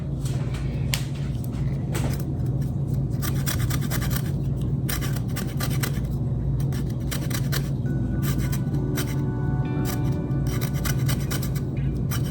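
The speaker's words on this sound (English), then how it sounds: "I'm gonna go ahead and add some lemon zest." Lemon rind rasped over a fine zester for a white lasagna soup, giving a steady run of close, dry scraping strokes in quick rhythmic bursts across a kitchen's low background hum.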